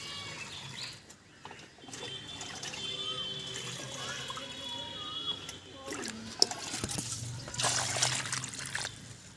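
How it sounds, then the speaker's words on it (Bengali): Water is poured onto a newly planted six-foot Katimon Thai mango tree set into soil in very hot weather, making a steady trickling and splashing that runs throughout at moderate loudness with a few scattered knocks. "এবার জল দেওয়ার পালা।"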